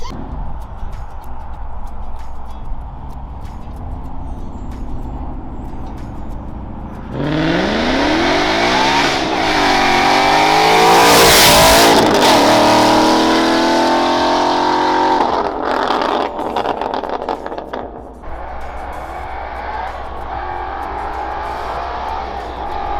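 A 900 WHP car accelerates hard during a ride-along, the engine climbing through loud rising revs with gear changes, peaking in a roaring pull before easing off, all heard up close from inside the cabin.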